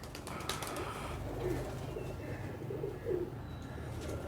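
High flyer pigeons coo softly in a loft, with low rolling calls repeating a few times over a constant murmur of background noise.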